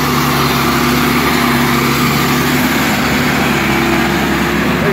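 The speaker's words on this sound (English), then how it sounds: "show you the tie crane and another trip machine. He's inserting ties." A Nordco TRIPP railroad tie machine runs while inserting ties on a track gang, a loud, constant engine drone with a steady mechanical rumble and no break or talk throughout.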